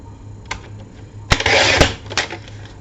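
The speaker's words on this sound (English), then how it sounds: "So let's cut the advertising strip off. And we'll cut this straight to 2 inches." A power saw cuts through an advertising strip to two inches, starting with a few sharp clicks, then a loud, bright whine of roughly half a second before quieter ticks and knocks.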